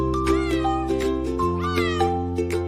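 A cat meows repeatedly over a musical backing, the cries rising and falling in quick succession, clear and close.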